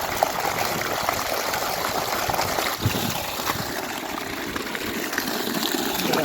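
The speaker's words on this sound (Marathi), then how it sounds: "बघा कसं पाणी पडायला लागलंय" Water from a borewell gushes steadily into buckets outdoors, a loud continuous splashing stream with no pauses.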